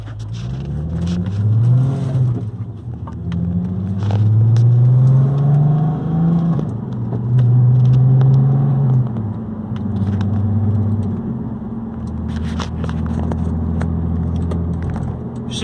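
A car with a faulty mass airflow sensor, recently repaired after breaking down, idles with a loud, steady engine rumble that swells through several revs and eases back, close to the microphone and with no talking.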